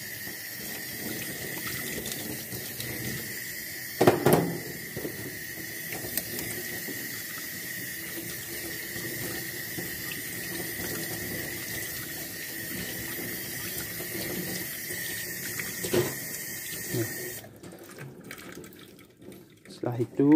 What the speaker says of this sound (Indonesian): pastikan semua dicuci dan dibilas